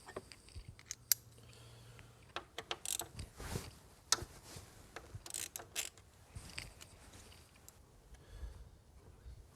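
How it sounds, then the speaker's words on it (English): A ratchet works a bolt loose on a 2014 Nissan Maxima 3.5, with faint, close, irregular bursts of clicking and mechanical rattling spread across the stretch. "We need to take that bolt out."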